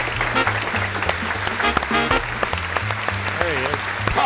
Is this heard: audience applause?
yes